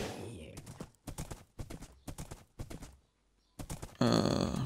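Rhythmic hoofbeats of a horse in a video game clip-clop in quick repeated bursts with brief pauses, mid-distance and moderately loud, with a grunt and a whinny-like burst near the end.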